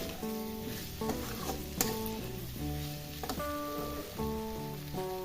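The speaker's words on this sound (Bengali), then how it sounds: "এঁচোড় আর আলুটা মশলার সাথে ভালোভাবে কষিয়ে নিয়েছি আমি।" Jackfruit and potato fry with spices in oil for an echor kalia, giving a steady sizzle with occasional stirring knocks under background music.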